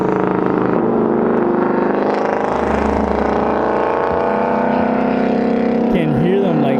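A loud, rumbling Mustang engine drones past at a car meet, a steady roar with a shifting pitch throughout and crowd noise close by.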